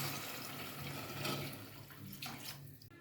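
A steady rush of water pouring into a pan of prawns for biryani, fairly quiet and continuous, trailing off at the end.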